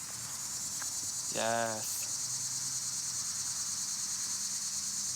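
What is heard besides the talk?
cicadas chirping at night by a firepit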